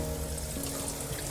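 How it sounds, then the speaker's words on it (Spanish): Running tap water splashing into a sink while a small dish is rinsed, a steady close rush of water with no talking. "Voy a enjuagar mi trastecito."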